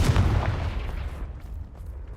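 A Confringo fire spell blasts in Hogwarts Legacy, a deep booming burst that starts loud and slowly decays over about two seconds, with no talking.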